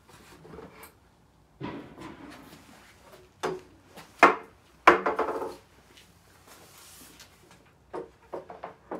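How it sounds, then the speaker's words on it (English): An oak side wing is lifted off a miter saw station and flipped over, giving scattered hollow wooden knocks and thumps, a couple of them sharp and loud, with short quiet gaps between. "I'm going to just take off the one on the right and flip it upside down."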